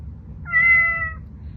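A Chongker MateCat Pro interactive robot cat gives a single clear, close meow lasting under a second, alone against a quiet low room hum.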